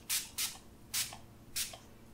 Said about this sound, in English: I'm just gonna be finishing up my face with this new Clinique Moisture Surge face spray